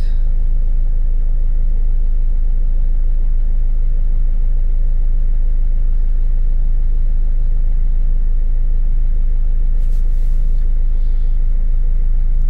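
A Renault Scenic 2 with a 1.5 dCi diesel engine runs steadily, giving a loud, continuous low rumble with an even mid-range drone and no clear start transient, heard alone without talk.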